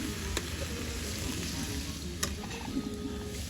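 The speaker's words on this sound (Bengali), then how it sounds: "কষানো হয়ে গেছে, এবার জল দিয়ে দিচ্ছি" Water goes into a pan of sautéed ash gourd seasoned with spice powder and salt, raising a steady, close sizzle and bubbling hiss with a few sharp pops and clinks, without talk.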